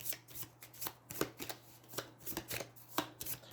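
Deck of Aeons End game cards being shuffled by hand, a series of crisp, close riffling bursts in an uneven rhythm, quiet and alone.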